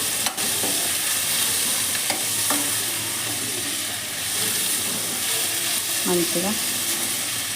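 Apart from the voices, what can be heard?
potato and cauliflower being stirred and fried in oil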